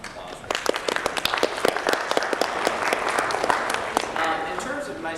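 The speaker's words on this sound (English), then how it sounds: "Let's give them another round of applause." Audience applause at an academic talk on interpretive research, a steady wash of many hands clapping that rises quickly and holds at a moderate, fairly close level for several seconds.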